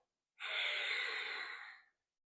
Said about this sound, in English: you'll constrict the back of your throat so that the constriction causes your breath to be heard